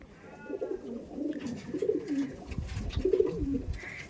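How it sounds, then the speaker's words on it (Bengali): Racing pigeons at a loft give several soft, repeated coos in low rolling phrases, close by and fairly quiet, with light rustling between calls and no talking. "দেখুন পায়রাগুলো দেখুন"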